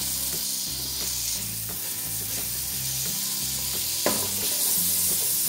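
Onion and garlic frying in oil in a pan for a chicken fricassee, giving a steady loud sizzle with occasional stirring clatter and no talk.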